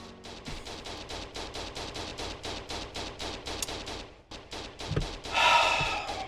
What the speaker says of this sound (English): What the hell are you shooting at?